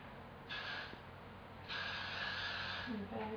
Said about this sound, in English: now I'm going to finish it off with hairspray